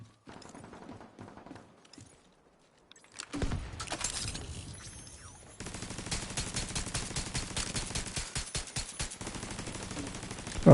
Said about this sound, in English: they're shooting at not the guys I wanted